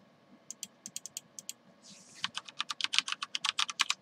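Typing on a computer keyboard on a Windows XP machine, sparse taps at first, then a quicker steady run of close, crisp keystrokes.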